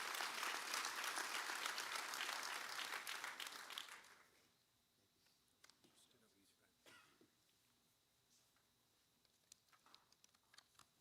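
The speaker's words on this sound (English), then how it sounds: "I thought he just deserved a round of applause." An audience applauds at a linemen training graduation ceremony, dense clapping for about four seconds that then stops abruptly, leaving a quiet room with scattered coughs, throat clearing and small noises.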